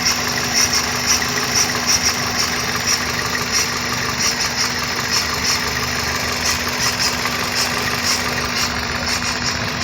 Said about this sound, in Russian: Обороты не плывут, а вот чисто вот это фырканье.